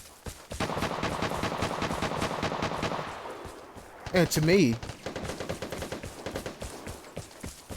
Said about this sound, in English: Now, tell me why gunshots ring out.